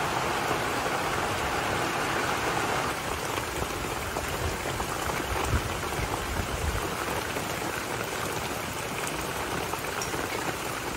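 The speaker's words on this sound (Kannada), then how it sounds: "ಜೋರು ಮಳೆ ಕೂಡ ಬರ್ತಾ ಉಂಟು ನೋಡಿ" Heavy rain pours down in a dense, steady hiss with scattered drops pattering on surfaces, unbroken throughout and with no voices.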